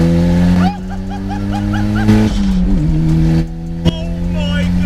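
A Mitsubishi Evo 7 with a widened body, 350 bhp and a screamer pipe exhaust revs hard right up close, a loud rasping drone that rises and falls through several blips, with a brief voice underneath.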